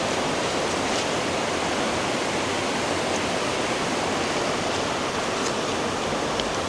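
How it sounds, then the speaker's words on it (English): A mountain river rushes down into a deep pool, making a steady, loud, broadband roar of flowing water that continues unbroken throughout. "I just found this little well, river coming down from the mountain, and it's quite a big pool."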